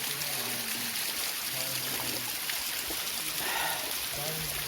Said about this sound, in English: So here I am, just below the fall.